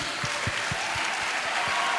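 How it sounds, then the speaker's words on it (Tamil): An audience at an evening cultural night gives a short burst of steady, dense clapping to welcome the Faith Walkers group. "சத்தமாக ஒரு கைத்தட்டி அவங்கள வெல்கம் பண்ணலாமா?"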